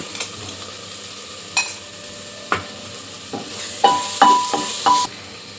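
Garlic, green chilli and ginger paste stirred in a frying pan, with a soft sizzle under scattered sharp clinks and scrapes of the spoon against the metal pan, close and alone.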